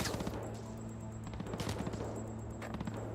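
Rapid bursts of gunfire in a Cyberpunk 2077 firefight, several clustered volleys with sharp transients rattling over a steady low game hum, fairly close and dense throughout.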